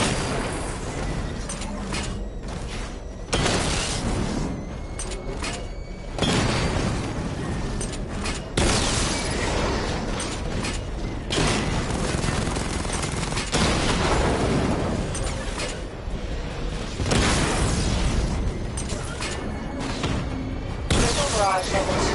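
Rapid salvos of missile barrage explosions in the Batman: Arkham Knight video game, dense booming bursts that repeat across the whole stretch, loud and layered with a steady rumbling bed beneath.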